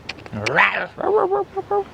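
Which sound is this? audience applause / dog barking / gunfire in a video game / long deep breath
dog barking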